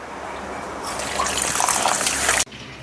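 Water being poured onto rice in a vessel to soak it, a steady close gushing stream that swells louder, then cuts off abruptly, with no talking.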